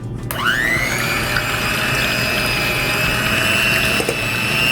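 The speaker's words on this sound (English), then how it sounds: "you're going to want to beat the egg whites" Egg whites being beaten until foamy for a pavlova: a steady, close motor whir that rises in pitch as it spins up, then holds an even drone with no pauses.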